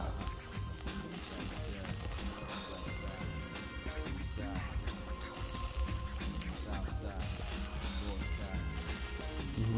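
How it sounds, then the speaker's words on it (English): Meat sizzles on a grill, a loud continuous crackling hiss with scattered pops, steady throughout and close up, with no voices over it. "Listen to that sizzle."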